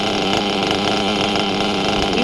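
A high-idling RC truggy nitro engine with a loose, sloppy clutch bell buzzes steadily and loudly at close range, a continuous raspy drone with no pauses.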